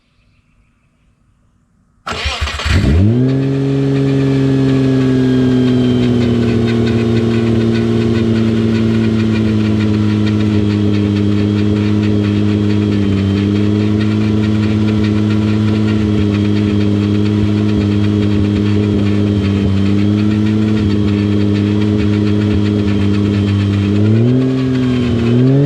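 A Subaru fitted with a swapped H6 flat-six engine cranks briefly after a quiet moment, catches and settles into a steady, loud idle with a slight rev change near the end; nobody speaks.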